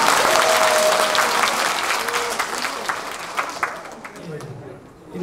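A crowd at a singer's album launch event gives a guest a warm round of clapping, dense and loud at first, then thinning and fading toward the end, with some voices mixed in.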